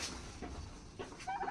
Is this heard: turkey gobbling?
yes